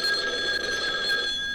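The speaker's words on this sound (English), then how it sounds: "the phone rang." A cartoon telephone bell rings in one continuous, bright metallic trill lasting under two seconds, loud and close, with no talk over it.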